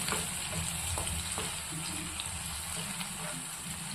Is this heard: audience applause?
no